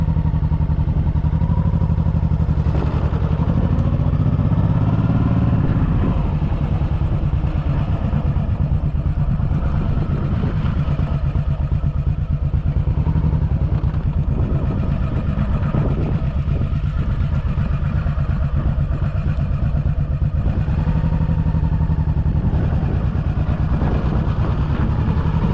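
A Honda Shadow VT1100c motorcycle's engine runs loud and close throughout, a dense low rumble with clattering texture and a brief rise in pitch near the start, heard without talk.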